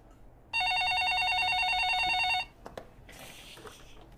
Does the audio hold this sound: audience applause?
no